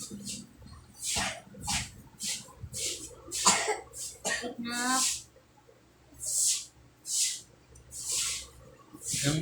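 A person coughs repeatedly in short, breathy, hoarse bursts spread across several seconds, close and fairly loud, in a home kitchen where chicken is being picked apart.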